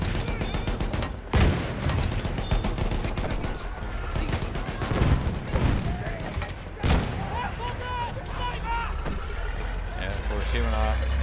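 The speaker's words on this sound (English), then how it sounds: "Machine gun, look like it." Battlefield 1 machine-gun fire during tank combat, rapid bursts mixed with engine rumble and several heavy booming shots, while players talk over the din throughout.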